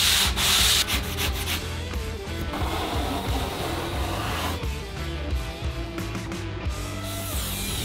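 A worn 60-grit sanding sponge rubs back and forth against a board in continuous coarse, gritty strokes. The scraping is close and loud throughout.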